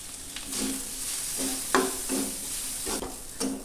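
Spices sizzle in a pan with turmeric and grated coconut while a spoon stirs them in repeated scraping strokes over a soft, steady frying hiss.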